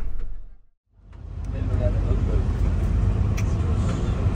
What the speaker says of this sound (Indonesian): Nih siap-siap berangkat nih bis kita